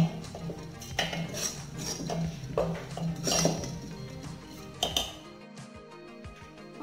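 Roasted coconut scraped and tipped into a mixer grinder jar, giving a string of light metallic clinks and spoon scrapes against the jar, fairly close, with no voices, trailing off into quiet near the end.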